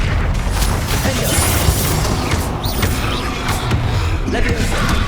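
Blasting spell explosions from the video game Hogwarts Legacy, dense booms and bursts packed with spell effects and combat noise, loud and continuous throughout.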